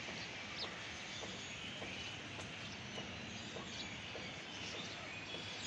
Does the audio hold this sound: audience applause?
no